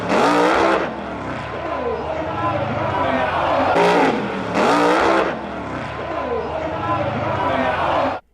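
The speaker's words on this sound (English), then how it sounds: "you can hear one more stab at the throttle right after the car landed" Drag race car engine on a drag strip, blipped with a throttle stab after landing from a wheelie: loud engine roar with repeated sharp bursts of revving, several distinct surges, heard close and dominant over a crowd-like background.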